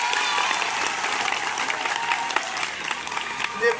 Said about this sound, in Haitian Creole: Nous avons que nous battons notre gros bravo encore pour Atitra.